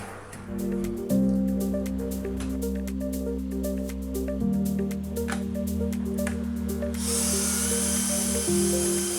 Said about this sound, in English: We then marked and drilled through the deck